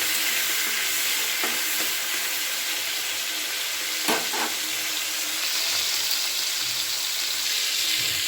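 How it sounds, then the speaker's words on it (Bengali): Prawns fry in hot mustard oil in a wok with a loud, steady hiss of sizzling that runs throughout, broken by a few brief stirring scrapes near the middle. No talking. "তেলটা গরম হয়ে গেছে এবার আমি চিংড়ি মাছগুলোকে ভেজে নিচ্ছি"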